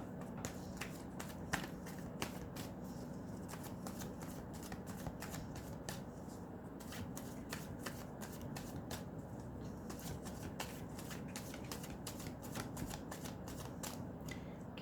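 Tarot cards being shuffled for a reading, a faint, close rapid riffling and slapping of cards, repeated in quick bursts throughout with no talking.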